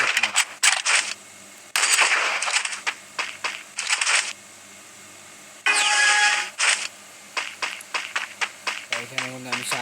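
An MP40 submachine gun fires in a video game in short, sharp bursts separated by gaps, loud and close among other in-game noises.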